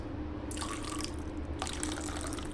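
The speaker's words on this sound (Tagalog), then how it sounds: "At maglalagay tayo guys ng konting tubig." A little water pours into a pot of fish paksiw with eggplant and vinegar, a soft trickling and splashing in two short bursts, close by with no talk.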